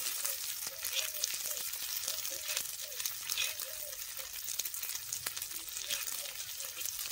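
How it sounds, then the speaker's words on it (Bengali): Eggs frying in oil in a pan in a village kitchen, a steady dense sizzle with a crackling texture running throughout, close and continuous with no break. "খুব সুন্দর করে ফ্রাই করে নিচ্ছি বাবা"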